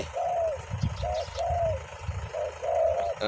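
Spotted dove (nok khao) calling in the morning: a series of close, clear, rhythmic coo phrases repeats over a low background rumble.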